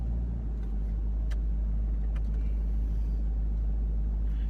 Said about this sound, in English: Once it's on 4-wheel low, I switch on the crawl control mode.